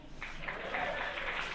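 Brief, moderately loud audience applause, a short burst of crowd clapping with no talk over it.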